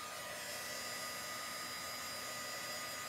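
Hair dryer blowing steadily on a chalk paste transfer, a constant close whooshing hum with no break, alone without talk.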